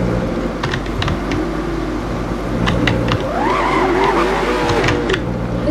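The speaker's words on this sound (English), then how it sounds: "I just did a drift." Tires squeal in a long, wavering screech as a car drifts in the Driving Empire video game, loud and steady over a constant engine drone, with no talking.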